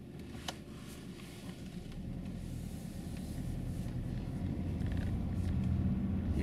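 Car pulling away during a driving lesson turn in the road, steady low engine rumble and road noise building gradually, close and continuous with no talk.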